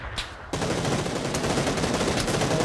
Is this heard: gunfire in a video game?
yes